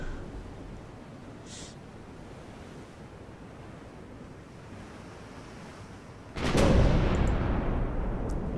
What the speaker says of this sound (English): And there go the 8-inch guns firing again.